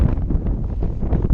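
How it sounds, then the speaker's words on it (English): Strong outdoor wind buffets the microphone in a brief, loud, rumbling gust. "it's windy outside"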